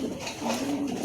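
Newly acquired pigeons, a yellow-bodied male and red-bodied female both in moult, coo softly and steadily at close range, a low murmuring call running through the whole short stretch.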